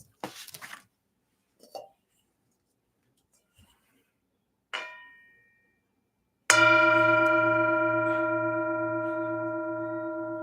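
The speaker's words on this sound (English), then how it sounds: "I'll invite the bell to sound." A mindfulness bell at a Sunday mindfulness service in Thich Nhat Hanh's tradition is struck once after a few soft handling taps, ringing out clearly and alone with a long, slowly fading resonance.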